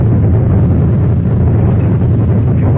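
Police car engine roaring under hard acceleration along a main city street, a steady loud low rumble filling the whole moment without a break, staged as a 1950s radio drama sound effect.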